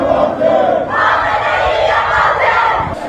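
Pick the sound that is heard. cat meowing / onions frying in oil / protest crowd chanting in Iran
protest crowd chanting in Iran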